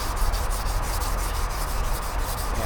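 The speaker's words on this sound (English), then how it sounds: "you want to have light pressure on your wet dry sandpaper" Wet/dry sandpaper scrubs paint on a Sportster Ironhead motorcycle part in quick, even back-and-forth strokes. The rasping is close and steady throughout, with no talking.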